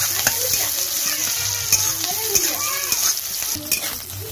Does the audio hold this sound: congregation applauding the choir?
no